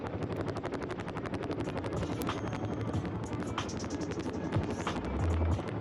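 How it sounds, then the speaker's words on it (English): Two Chinook helicopters fly at an IAF air show in Bhopal, a dense rapid rotor chop thudding steadily throughout, loud and close, with a public-address voice faintly underneath. "शक्तिशाली चिनूक आपको प्रणाम करने जा रहा है।"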